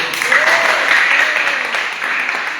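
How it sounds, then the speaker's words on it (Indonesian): A group at an Indonesian church or religious gathering gives a short round of applause for Jojo, fairly loud and steady clapping over a brief stretch, with a faint voice mixed in. "tepuk tangan buat Jojo"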